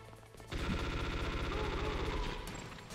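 Sustained automatic gunfire in Metal Gear Solid, a dense, loud burst of rapid shots that runs almost unbroken for about two seconds before tailing off.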